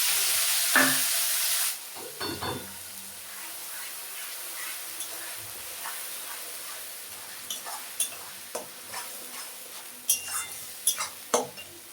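Onion, garlic, green and dry chilli and radhuni paste frying in a pan for a fish dish, a soft steady sizzle under sharp utensil clinks and scrapes that grow more frequent toward the end.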